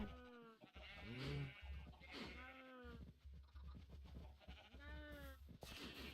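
Sheep in the Minecraft survival game bleat several times in a quavering, harmonic cry, the calls spaced out with a low hum underneath.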